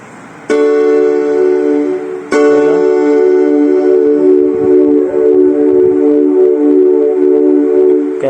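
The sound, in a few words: keyboard synth pad programmed for worship music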